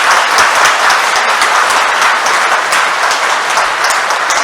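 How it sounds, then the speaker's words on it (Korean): Loud, dense applause from a congregation at a Catholic priest's first Mass at Sinjeju Cathedral in Jeju, as the new priest is brought to the altar, continuous close clapping with no talk. "큰 박수로 제대 앞으로 모시도록 하겠습니다"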